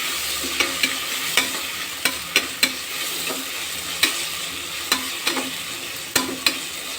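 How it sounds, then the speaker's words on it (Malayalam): Ginger garlic paste fries in a pan for beef masala curry, a steady hiss of oil punctuated by sharp, evenly spaced spatula taps and scrapes; near and clear, without speech. "പിന്നെ നമുക്ക് ഒരു 2 ടേബിൾ സ്പൂണിൻ്റെ അത്ര ഇഞ്ചി വെളുത്തുള്ളി ഇടാം. എന്നിട്ട് അത് നല്ലോണം വഴറ്റി കൊടുക്കുക."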